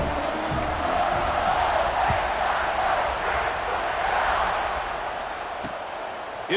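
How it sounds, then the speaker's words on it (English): A stadium crowd in the College Football 26 video game cheers after a score, a loud sustained roar of voices with scattered whoops that eases slightly toward the end. "this crowd is buzzing after that last score"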